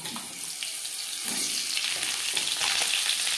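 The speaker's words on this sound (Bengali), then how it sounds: "পাঁচফোড়ন তেজপাতা ভেজে নেওয়ার পর দিয়ে দেবো আলু" Panch phoron and a torn bay leaf fry in oil before potatoes go in for a katla fish curry, a continuous hissing sizzle heard up close at a steady, moderate level with no talking.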